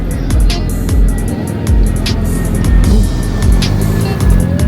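A car rolls up outside a TGI Fridays restaurant, its engine rumbling loud and close with repeated revving swells and low throaty pulses.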